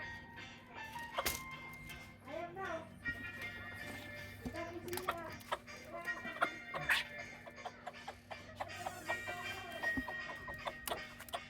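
Chickens on a small farm cluck and squawk in scattered bursts at feeding time, fairly close, while a person talks over them.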